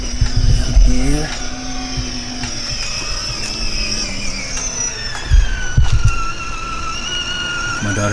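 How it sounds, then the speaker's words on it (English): A child's Power Wheels ride-on toy car drives nearby with a whining electric motor whose pitch drifts up and down. Thumps and bumps come through it, and someone talks over the sound. "My daughter's driving a Power Wheel."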